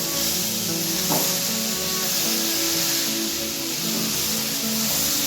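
Radish and dal frying in a pan while being stirred together, a steady close sizzle with occasional scraping and clinking of the spoon throughout.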